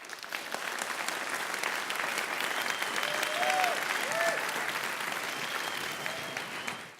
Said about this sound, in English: that applause is for everyone